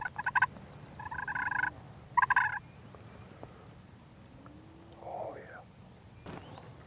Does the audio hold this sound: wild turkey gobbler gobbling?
yes